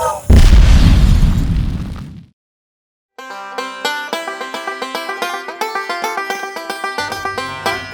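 A loud, close dynamite blast at a ghost town attraction booms and rumbles for about two seconds, then silence, then music plays.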